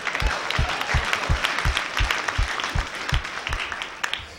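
Audience applause and hand claps at a stand-up comedy show, fairly loud and close, with a rhythmic low stomping or clapping beat running through the steady clapping.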